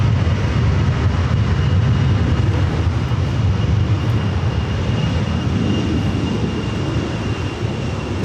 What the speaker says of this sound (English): this Delta A320 heading to Austin